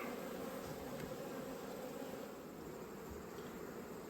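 Honey bees swarm out of a hive box after a Formic Pro mite treatment, a dense continuous buzz filling the air close by, steady and even throughout.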